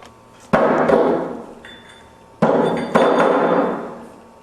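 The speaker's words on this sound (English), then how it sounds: "then hammering the wing nut tight" Three heavy metallic hammer blows tightening the wing nut of a pipe hammer union, close and loud, each leaving a ringing decay; two come in quick succession after a pause.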